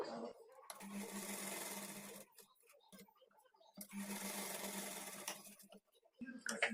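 A sewing machine stitches darts on the front panel of a blouse in two sustained, steady whirring runs with a pause between them, close and fairly loud.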